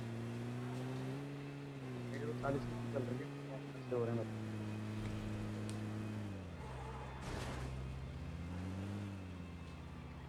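Vehicle engine droning in a battle royale video game as the car heads toward the zone, a steady low hum that rises and falls in pitch with speed while someone talks over it.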